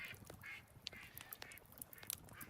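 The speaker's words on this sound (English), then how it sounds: "you can hear the ducks" Ducks in the Medieval Dynasty game quack repeatedly in quick irregular bursts against a soft outdoor ambience, fairly faint and with no talk over them.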